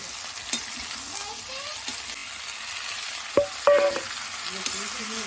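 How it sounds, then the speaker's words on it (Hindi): Bean and potato curry sizzles steadily as it is tempered and fried in a pan, with occasional metallic scrapes and clinks of a spoon stirring close by. "और अब फटाफट से छौंक देते हैं सब्जी।"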